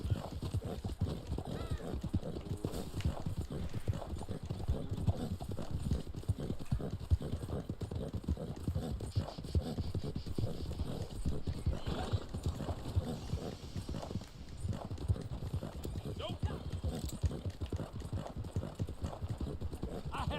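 Horse riding in Red Dead Online: continuous rapid clip-clop of galloping hooves, steady and close, with faint rumbling game ambience and an occasional whinny throughout.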